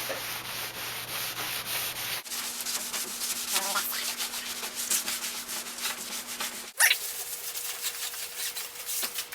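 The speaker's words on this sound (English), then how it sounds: "Now I'm applying my first coat of Danish oil." Danish oil being rubbed onto a wooden table with breadboard ends, a soft steady wiping and rubbing that runs continuously, close and moderately quiet, with no talk.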